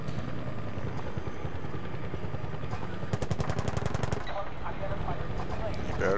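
A helicopter whirs amid bursts of machine-gun fire in Battlefield: Bad Company 2, with a rapid, evenly spaced volley in the middle over constant rotor and battle noise.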